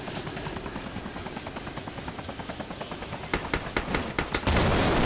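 Gunfire bursts from ARMA 2 rattle over the constant thudding beat of a nearby helicopter rotor, with the shots growing denser and louder toward the end, and no voices.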